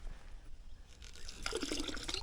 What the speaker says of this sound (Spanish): Mira, aquí tenemos un grifo,